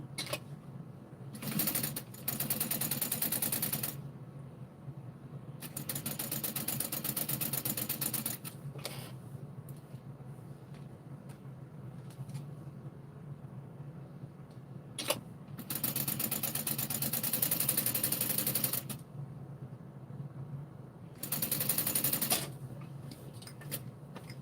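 Sewing machine stitching down both sides of a mini backpack, running in four loud sustained bursts of mechanical whirring separated by quiet pauses, with no talking.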